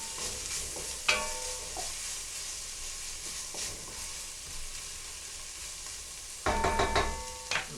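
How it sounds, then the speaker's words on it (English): Stirring a meatball stew in a pot, with soft scraping and sloshing near the spoon, a sharp clink early on and a louder burst of stirring near the end. "Stir that around."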